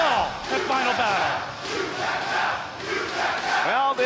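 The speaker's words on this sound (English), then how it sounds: "this Philadelphia crowd certainly never shy about making their thoughts known" Wrestling crowd at a Philadelphia ROH TV title match, Stevie Richards vs Roderick Strong, shouting and cheering loudly in a dense, sustained roar of many voices that swells and dips throughout.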